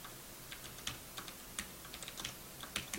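Fast, faint typing on a computer keyboard, light irregular key clicks in quick succession with a few louder taps, without talk.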